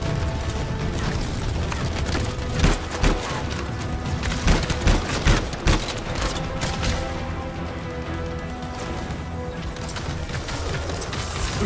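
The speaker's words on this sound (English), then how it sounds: "Who's shooting me?" Heavy automatic gunfire from the video game Anthem runs for the whole stretch, loud and close, with bursts of rapid shots and sharp impacts stacked over a dense battle din.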